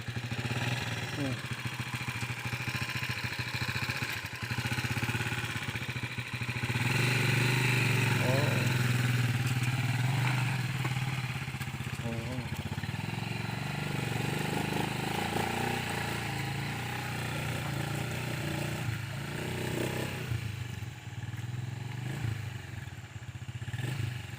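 Motorcycle engine running steadily while riding on a road, a continuous mid-pitched drone with rattling clatter and rising and falling revs, with voices talking over it throughout.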